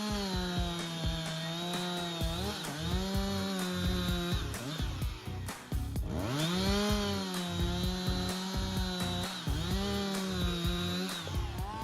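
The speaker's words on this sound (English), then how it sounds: "Continue with the Husqvarna 359 chainsaw, a symphony of power and precision." A Husqvarna 359 chainsaw cuts through giant logs, a loud, close engine whine that repeatedly bogs down and revs back up with each cut.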